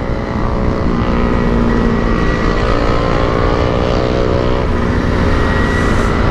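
Yamaha Mio motor scooter with a stock exhaust hums loudly and continuously while riding at night, its engine note holding steady with faint wind noise, and no talking.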